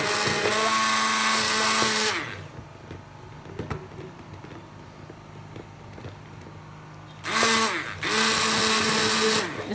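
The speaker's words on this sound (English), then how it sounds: "So now we're just going to whisk it again." An electric whisk or hand mixer whirs loudly through goat milk soap base, a high steady buzz in two bursts separated by a quieter pause.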